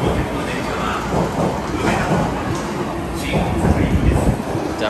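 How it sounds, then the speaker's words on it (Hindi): A metro train pulls into a station in Japan, rumbling and screeching along the rails with rising, uneven loudness, heard close on the platform amid crowd noise and talk. "आ गई हमारी मेट्रो"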